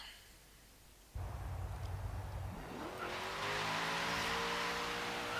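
A barn-find car with aerodynamic upgrades driven in Forza Horizon 3, its engine kicking in abruptly and then rising into a loud, steady, revving drone close up, with no talk over it.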